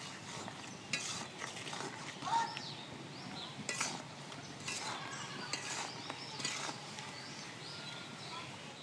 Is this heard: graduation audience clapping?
no